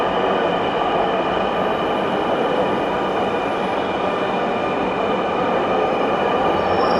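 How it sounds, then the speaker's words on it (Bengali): A metro train arrives at Secretariat metro rail station, a steady, loud, close rumble with a high whine running through it for the whole stretch, with no voices. "আরেকটি ট্রেন আসছে সচিবালয় মেট্রো রেল স্টেশনে"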